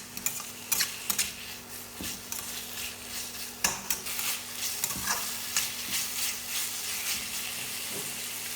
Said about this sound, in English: add the sliced meat and stir-fry until it changes color